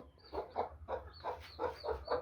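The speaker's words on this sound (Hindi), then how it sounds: "मुर्गी बुला रही है आहिस्ता आहिस्ता से।" A hen clucks softly to call her Aseel chicks at feeding, a steady series of short, low calls, close by, with no voices.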